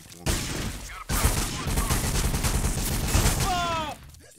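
Grenade launcher fire in a shooting video game, loud dense bursts of explosions and gunfire rolling continuously for several seconds, with a brief gap and a whistling tone near the end.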